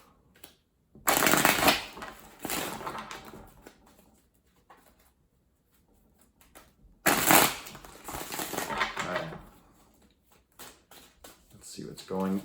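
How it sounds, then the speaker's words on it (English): Tarot cards are riffled and shuffled close up in two distinct bursts of crisp flapping, each trailing into softer handling, separated by quieter pauses; a voice speaks softly in between. "a couple more shuffles here"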